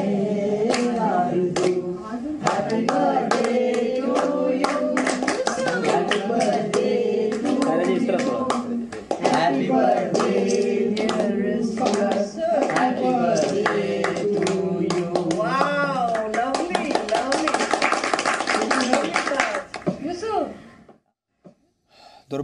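A crowd claps through a birthday celebration for the veteran actor Dilip Kumar, steady applause under voices that sing and talk, before fading out at the end.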